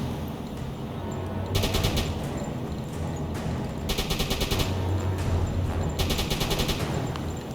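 Submarine deck gun firing HE shells in the naval game UBOAT, three sharp bursts of rapid reports spaced a couple of seconds apart over a constant engine and sea rumble.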